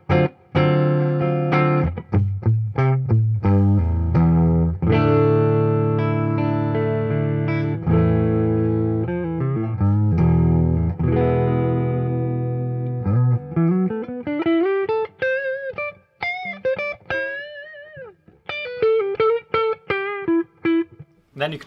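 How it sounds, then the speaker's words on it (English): A 2021 Fender Boxer Series Stratocaster electric guitar plays a clean tone on its neck pickup: ringing chords at first, then single-note phrases with slides and bends, played alone and clearly. "here's our clean tones, starting with our neck pickup"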